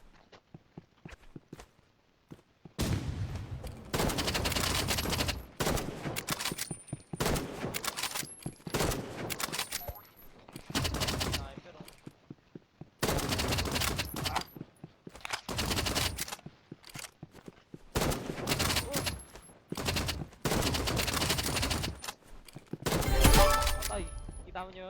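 Rapid bursts of video game gunfire with sniper shots, loud and close, broken into repeated volleys separated by short pauses, with talk over parts of it.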